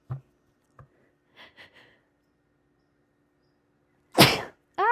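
A single loud, close sneeze bursts out near the end, preceded by a few soft sniffs and small breathy sounds over otherwise quiet room tone.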